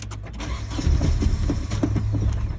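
A Nissan 240SX engine cranks over with a rhythmic whirring starter churn, loud and close, repeating without catching.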